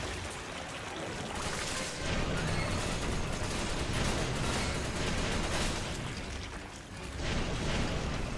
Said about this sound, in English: I'm gonna try the SIG assault rifle.